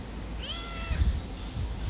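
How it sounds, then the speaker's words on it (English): A pet cat gives one drawn-out meow, fairly near and moderately loud, followed by some soft handling thumps in a quiet room, with no talk over it. "she's a very lovely cat"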